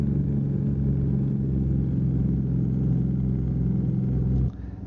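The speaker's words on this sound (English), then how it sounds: "This Jake sounds really good on this in this truck." A semi truck's engine brake rumbles steadily in a truck simulator game, loud and continuous with a low throbbing drone, then drops off abruptly near the end.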